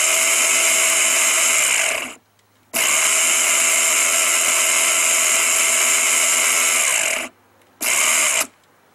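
A Black & Decker electric lawn mower motor, running with only part of its stator fitted, whines loudly and steadily, cuts out, restarts for a long stretch, then gives one short final burst.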